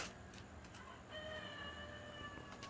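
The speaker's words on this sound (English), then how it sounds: "Hear the roosters crowing." A rooster crows faintly in the distance, one drawn-out call rising partway through over quiet outdoor background noise.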